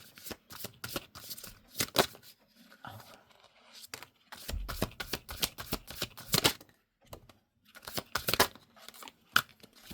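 Tarot cards being shuffled and drawn, a run of crisp riffling flutters and papery slaps in repeated bursts with brief pauses between, close and fairly quiet, no talking.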